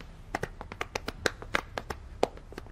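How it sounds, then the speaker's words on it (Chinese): A small group indoors claps hands sparsely and quietly, about a dozen and a half distinct, uneven claps scattered over a few seconds rather than a full ovation. "大家鼓掌"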